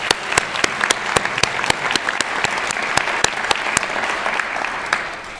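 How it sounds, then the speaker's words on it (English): A large audience at a graduation ceremony breaks into sustained applause, dense and steady with sharp individual claps standing out, loud and close throughout with no voices over it. "Let's give them a round of applause"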